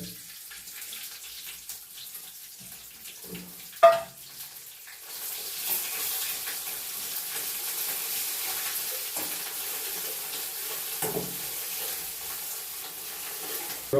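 Onion frying in a pan with cumin seeds and curry leaves, a steady soft sizzle running throughout after a brief clatter, close and moderately loud with no voices.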